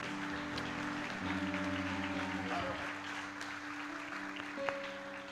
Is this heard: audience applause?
yes